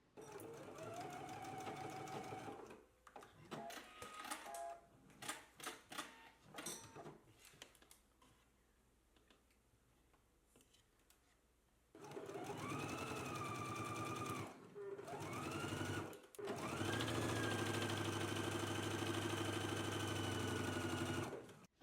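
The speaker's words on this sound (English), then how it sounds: "Let's go ahead and do our stitching now." A sewing machine stitches a pant leg seam in bursts, with rapid mechanical chattering runs separated by pauses and handling clicks, the motor whirring loudly and steadily near the end.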